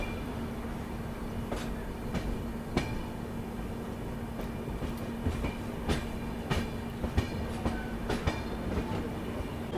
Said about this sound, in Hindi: राजस्थान की इकलौती शताब्दी एक्सप्रेस में न्यू दिल्ली से अजमेर तक का सफ़र